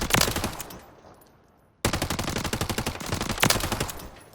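Rapid bursts of Holger 26 machine gun fire in the Warzone video game, a short volley, a brief pause, then a longer sustained stream of loud, evenly spaced shots with no talking.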